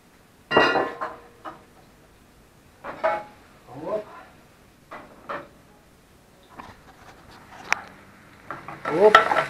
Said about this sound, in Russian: Все грибы. И на сковородочку их.